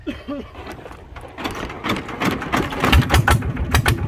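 A powerful boat engine runs with a rhythmic mechanical putter that grows louder and more pulsing toward the end, with a faint voice near the start.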